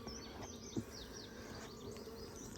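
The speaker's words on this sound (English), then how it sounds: "Those bees down there are so loud, man." Honey bees buzzing around a hive below the listener, a steady, faint, continuous drone of many insects with no talk.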